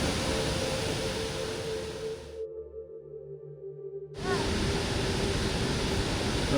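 Steady broadband roar of a rainforest waterfall at Fairy Falls in Australia, continuous and fairly loud, cutting out briefly in the middle before the rushing water returns at full level.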